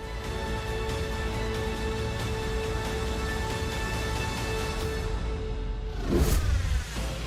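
BRABUS 800 tuned Mercedes SUV, a highly tuned vehicle, running with a steady engine drone throughout, swelling into a louder, closer rev near the end.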